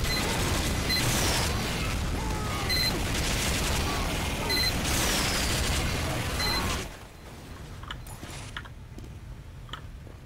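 Turret gunfire in the video game Team Fortress 2: a dense, continuous stream of rapid shots and mechanical clatter that stops abruptly near the end, leaving quieter ambient game noise.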